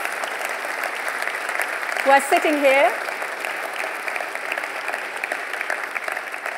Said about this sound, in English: let's start with a big round of applause